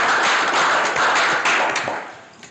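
Steady applause fills a planning commission meeting room, a dense wash of clapping that holds strong before tapering off near the end.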